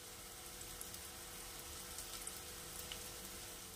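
Paneer kebabs shallow frying in a little oil in a pan, a steady, faint sizzle with soft crackles and occasional small pops, no voices.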